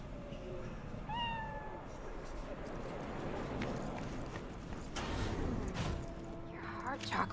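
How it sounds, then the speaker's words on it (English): A cat meows in Cyberpunk 2077, with a short rising meow near the start over busy game ambience and a steady background bed. Other brief tonal game sounds follow toward the end. "We gotta pet the kitty every time."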